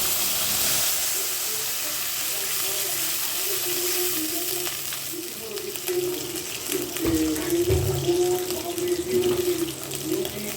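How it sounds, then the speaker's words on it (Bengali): Water pours steadily into a cooking pot during a Bengali rice pickle recipe, a continuous rushing splash that runs throughout, with some clatter near the end. "দিয়ে দিচ্ছি জল।"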